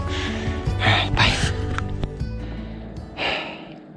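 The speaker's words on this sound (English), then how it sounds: "you don't have to keep listening to me panting" A hiker carrying a heavy pack while climbing a steep trail breathes in loud, close, heavy pants and gasps, several strong breaths spaced across the stretch with a low rumble of movement beneath.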